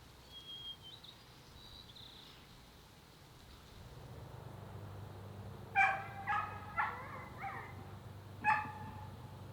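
Faint outdoor ambience in woodland in the Rocky Mountain foothills of Alberta, Canada, with a few bird calls, then an Airedale terrier barks several times in a short cluster, with one more bark a moment later.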